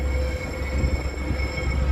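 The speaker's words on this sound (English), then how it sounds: "This is a Metro train pulling out of Union Station." A Chicago Metra commuter train rolls out of Union Station at street grade, a steady low rumble of wheels and rail with faint squealing tones, continuous and fairly close, with no talking.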